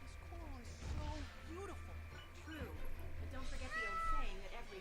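A house cat meows repeatedly at close range, a series of short rising and falling cries mixed with quieter background noise.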